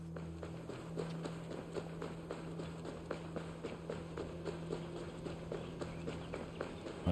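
Horse hooves clip-clop at a steady trotting rhythm in Assassin's Creed Valhalla, a continuous run of close, even hoofbeats over a low game ambience hum.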